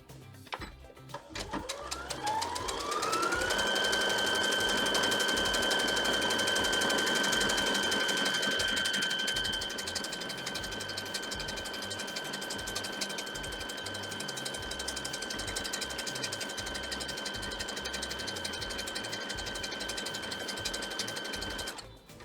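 A sewing machine runs steadily for about twenty seconds while stitching buttonholes, a loud continuous mechanical whirr with a rapid needle rhythm and a sustained whine. No one speaks.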